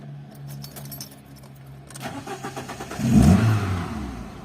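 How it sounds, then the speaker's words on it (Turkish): A Fiat Stilo's engine cranks and starts after the ignition is turned, following an engine ECU repair. Keys jingle first, then a brief starter whirr leads into a loud catch and revving idle in close range. "Arabamızı çalıştırıyoruz. Arabamız çalıştı."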